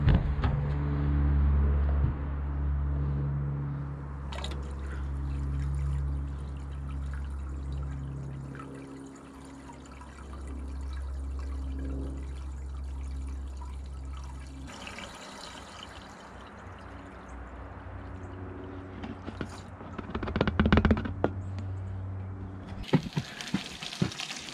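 Fresh water pours steadily into a Central Boiler CL 6048 outdoor wood boiler, a continuous close rush over a low hum, turning brighter and more splashy toward the end.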